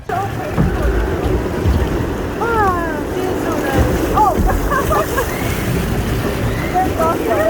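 Rushing water and wind on the Jetstream water ride at Six Flags Magic Mountain, a loud continuous roar with high whistling or squealing tones scattered across the middle.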